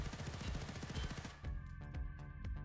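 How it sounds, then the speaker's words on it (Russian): Rapid bursts of assault rifle fire from an M4A1 or HK416 at a shooting range in Escape from Tarkov, loud and close, with sharp repeated shots that thin into spaced single cracks toward the end. "Теперь перейдем в тир и постреляем"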